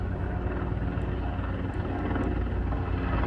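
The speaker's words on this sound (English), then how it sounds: "There's a helicopter goes by" A helicopter passes overhead outdoors, its steady droning rotor thrum loud and continuous, with no break in the engine noise for the whole stretch.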